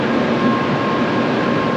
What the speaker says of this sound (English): I'm on the 7:34 bullet train.